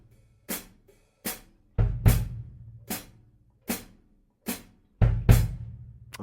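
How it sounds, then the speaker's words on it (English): A bass drum foot pattern for a bembe groove thumps out alone: single low kicks with paired strokes falling in between, evenly spaced over a repeating two-measure cycle. The hits are close and clear, with silence between them. "playing a bass drum note on the 1 of the first measure"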